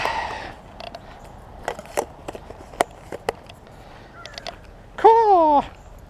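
A crow gives a single harsh, loud caw near the end, following scattered taps and knocks like footsteps outdoors near a dock.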